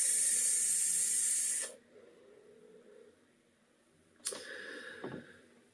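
A Vaporflask Stout vape mod by Vape Forward, fitted with a 26650 battery, gives a steady, close airy hiss as a hit is drawn for under two seconds. A short soft puff and faint handling noises follow.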